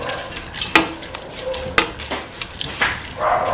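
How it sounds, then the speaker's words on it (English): Lentils stirred and sautéed in a pan, with several sharp utensil scrapes and knocks against the metal over a soft frying hiss, close and fairly loud. "Saute and mix the lentil."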